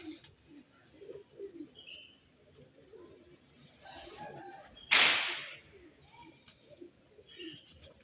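Low pigeon coos repeat softly in the background, with a few faint bird chirps and a sudden sharp crack partway through.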